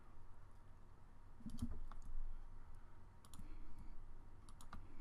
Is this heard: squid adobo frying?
no